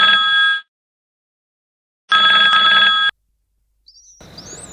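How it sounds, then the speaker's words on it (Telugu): Telephone bell ringing in two bursts separated by a pause, with a faint chirp and rustle at the end; no one speaks. "వీడేంటి ఈ టైంలో కాల్ చేస్తున్నాడు?"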